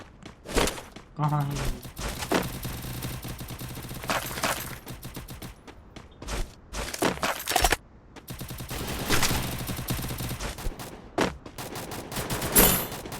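Gunfire in the Free Fire mobile battle game, loud bursts of rapid shots and single cracks with game effects, while voices talk over much of the action.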